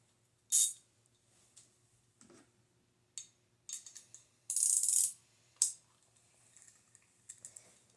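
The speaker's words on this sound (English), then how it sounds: "So first, a ratchet." Ratchet wrench from a new tool kit clicking in a few short, separate bursts of crisp mechanical ticks, with quiet pauses between, heard close up and alone.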